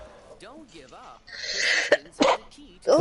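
A person sneezes abruptly in the middle of casual speech among friends playing Monopoly Plus, a sharp, loud burst followed by further short sneeze-like bursts, with talking around them.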